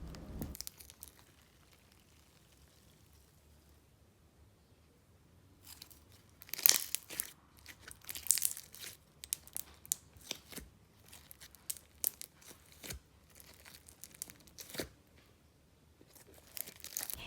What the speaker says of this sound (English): It turned into a really stretchy, thick, clicky, and bubble pop worthy clear slime